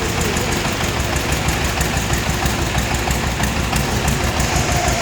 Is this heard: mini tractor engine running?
yes